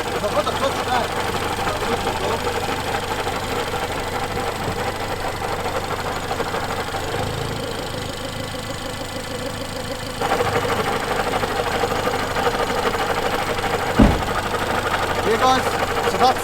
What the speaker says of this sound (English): The gearbox bearings are quite bad.